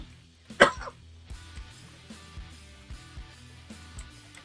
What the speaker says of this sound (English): I've just had this cough that it just won't go away